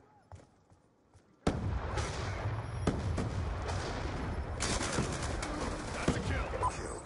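Frag grenade blast and gunfire in Call of Duty Black Ops 2 multiplayer: after a near-silent start, a sudden loud burst sets off sustained dense shooting and explosions with sharp cracks throughout.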